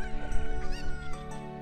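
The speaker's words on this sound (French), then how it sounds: "Regardez-moi toutes ces poules, enfin toutes ces cocottes." Chickens cluck at a ranch in a Zelda video game, their game-synthesized calls layered over steady background music with no talking.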